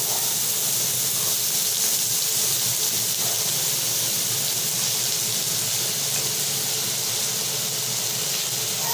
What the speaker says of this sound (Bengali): ঘিটা গরম হয়ে গেছে, এর মধ্যে দিয়ে দিচ্ছি গাজর